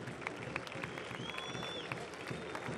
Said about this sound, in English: That's going to be it here in the 90th minute for Brian Rebellon, who rightfully gets the applause of the crowd.